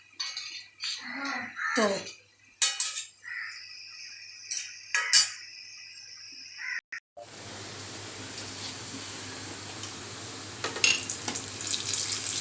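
Sukhiyan frying in hot oil, a loud continuous sizzle that starts abruptly and holds steady, with faint clinks of turning; quiet speech and utensil taps come before the frying starts.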